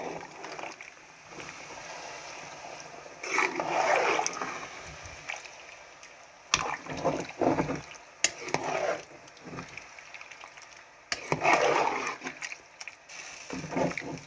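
Egusi soup is stirred in a pot, giving intermittent scraping and sloshing bursts between quieter pauses, faint and close.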